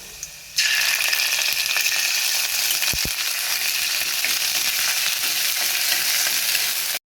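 A sudden loud sizzle bursts in as ginger paste hits a hot pan, then a steady close frying hiss continues, with a brief clink partway.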